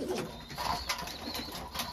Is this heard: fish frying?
no